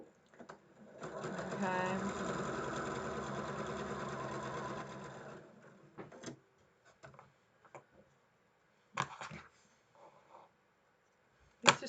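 Sewing machine running steadily for about five seconds while stitching down both sides of a quilt block, then stopping, followed by scattered clicks and handling noises and a brief spoken word.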